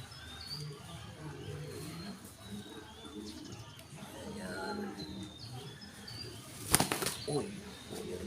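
A burst of pigeon wings flapping as the birds are released from a loft, a loud flurry that rises suddenly and fades, with calls and chatter in the background.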